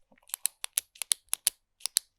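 A black ballpoint pen from a sewing subscription box clicked over and over, about a dozen sharp, close plastic clicks in quick irregular succession, with no voices.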